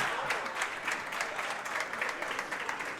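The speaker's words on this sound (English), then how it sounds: "Crowd gets him a great hand" Crowd applause rings out for a strike at a bowling championship, a steady dense clatter of clapping held at even strength for the whole stretch, with no voices on top.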